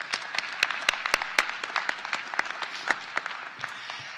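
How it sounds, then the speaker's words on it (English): Commencement audience claps for volunteers at a university graduation ceremony. The applause is moderate and sustained, with sharp individual claps standing out near the listener, and it thins out toward the end. "Let's give them all a round of applause."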